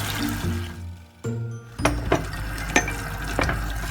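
Water and hot sauce are poured into a purslane dish cooking in a pot: a splash and rushing pour, a short pause, then bubbling sizzle with a few sharp clinks of a utensil.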